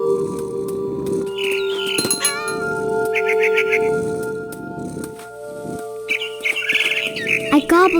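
A mama bird squawks and chirps in short bursts in the video game What Remains of Edith Finch, set against a continuous low ambient hum.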